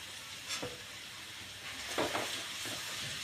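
Chicken curry ingredients sautéed in a pan give a soft, low sizzle with a few brief stirring scrapes and clatters, close by, with no talking.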